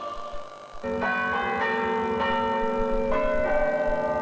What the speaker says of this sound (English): And across the country, bells rang out.